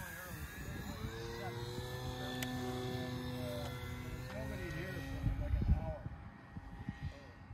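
A Carbon Cub model airplane flies outdoors, its engine droning steadily with a gliding, shifting pitch as it passes, while people talk nearby throughout.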